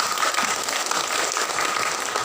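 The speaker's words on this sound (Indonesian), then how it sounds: "Tepuk tangan." A crowd at an inauguration ceremony for an Indonesian organization breaks into loud, continuous applause, dense clapping filling the hall throughout.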